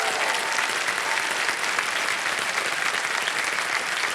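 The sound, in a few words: applause for a contestant's husband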